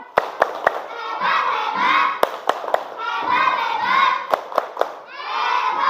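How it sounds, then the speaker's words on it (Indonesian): Schoolchildren in a classroom chant the 'tepuk hebat' routine in unison, their shouted voices punctuated by sharp, evenly spaced group claps in repeating rhythmic bursts. "Tepuk hebat dulu untuk kita semua."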